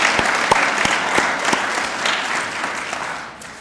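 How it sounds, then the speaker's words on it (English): Audience applause at an awards show, a burst of clapping with a few sharp individual claps near the front that fades out toward the end. "I think they all deserve a round of applause"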